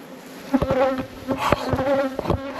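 Honeybees buzz around an opened hive during a hive check outdoors, with a steady close insect drone and individual bees whining past near the microphone.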